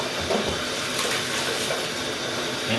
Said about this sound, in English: I'll do another close to 1 gallon extraction, just water only.